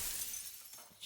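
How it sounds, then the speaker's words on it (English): A mirror shatters in the horror game Slay the Princess, a brief burst of breaking glass heard up close, with bright shards spraying and a sharper crack right at the end. "The mirror shattering"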